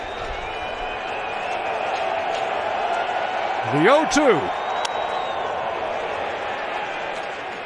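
Steady murmur of a large baseball stadium crowd during a 2015 NLCS playoff game between the Mets and Cubs, a broad continuous din with a brief swell of voices near the middle and a commentator speaking over it.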